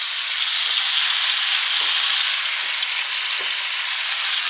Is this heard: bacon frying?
yes